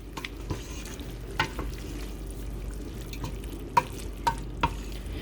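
Chili ingredients being mixed in a pot on the stove, a low simmering sizzle under a handful of distinct spoon scrapes and knocks, several sharp taps standing out near the end, no voices.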